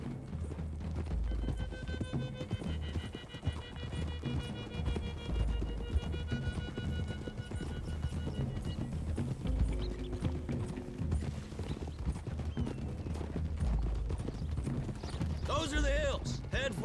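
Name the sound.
horses galloping, hooves clip-clopping, from video game Red Dead Redemption 2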